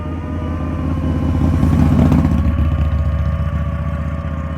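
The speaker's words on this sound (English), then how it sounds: "And we got a motorcycle." A small motorcycle or scooter passes on a road, its mid-pitched engine rising to a peak around the middle and fading slightly, fairly loud and steady with a buzzing drone and no talk.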